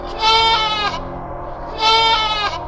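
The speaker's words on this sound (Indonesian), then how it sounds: "tiba-tiba terdengar suara anak kambingnya lagi" A young goat kid bleats twice, loud and close, each cry drawn out for under a second with a pause between, used as a sound effect in a horror story.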